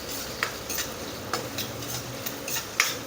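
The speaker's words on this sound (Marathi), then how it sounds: "आता कांदा चांगला तेलामध्ये परतून घ्यायचा आपल्याला." Chopped onion sautéing in oil in a pan for a mushroom curry, a steady low sizzle broken by a few sharp scrapes and taps of the spoon against the pan at irregular intervals, no talking.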